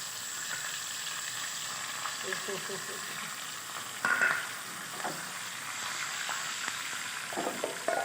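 Hot oil sizzles and crackles steadily as a tempering with small and green chillies fries for kadhi pakora, with a few sharper spits and stirring clinks rising over the frying hiss.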